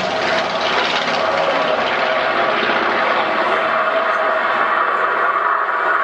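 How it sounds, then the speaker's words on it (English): A propeller fighter-type aircraft tears past in a high-speed pass at over 300 mph at an air show, a loud, sustained roaring engine drone with broad whooshing noise that holds steady and begins to fade toward the end. "Now it's a high-speed pass, which is well above 300 miles per hour"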